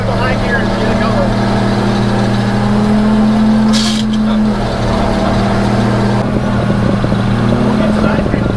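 A fire truck's engine drones loud and steady in high gear with a constant low hum, a brief hiss partway through, and faint voices under the engine noise.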